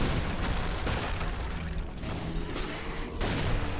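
Dense enemy gunfire and explosions in the desert level of the shooter Painkiller, with continuous loud rattling bursts and booms across the whole stretch, no let-up.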